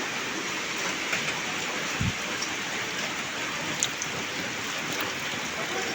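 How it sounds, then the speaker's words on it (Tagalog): Steady rain falls at a beach, a continuous dense hiss with a few louder drops and patters standing out now and then. "Maulan dito."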